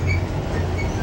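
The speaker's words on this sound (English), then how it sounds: "There's another monorail." A monorail train runs past near an airport station, a steady close rumble of wheels with low mechanical drone and no voices over it.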